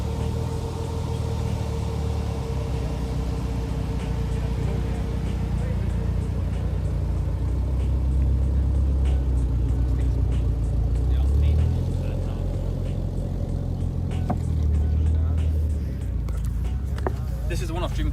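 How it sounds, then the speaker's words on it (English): A Ford RS Turbo pulls away at a classic car show with a low, steady engine rumble that swells near the middle. People talk close by over the engine throughout. "RS Turbo. About to drive off."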